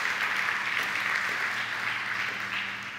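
Church congregation applauds steadily, a full, even roar of many hands clapping throughout with no break.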